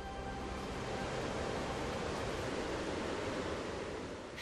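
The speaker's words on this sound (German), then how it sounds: "Es brodelt und rauscht, es nebelt die Gischt und Abertonnen von Wasser stürzen ins Urgestein." Gullfoss in Iceland thunders steadily as huge volumes of water cascade over two staggered tiers into a gorge, a dense, continuous roar of falling water and spray with no voices.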